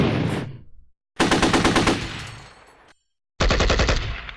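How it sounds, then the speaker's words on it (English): Gunfire in the WinSPMBT war game: two loud rapid machine-gun bursts, each fading out into silence, then a third burst starting sharply, close and harsh, with no voices. "So when they shoot at us, we're going to get an opportunity to return fire."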